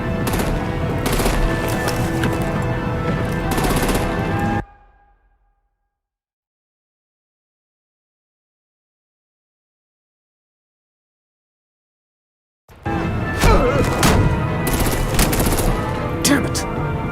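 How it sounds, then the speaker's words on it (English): Heavy artillery and automatic gunfire crash loudly in the Batman: Enemy Within game, a dense barrage that cuts to silence for about eight seconds before the firing and explosions resume just as hard. "Break out the artillery and disable their vehicles!"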